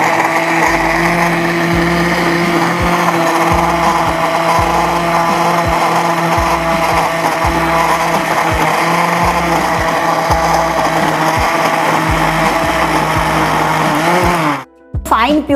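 A kitchen blender purees mango pulp in loud, continuous whirring bursts with a regular pulsing rhythm close by, before the motor abruptly cuts out near the end.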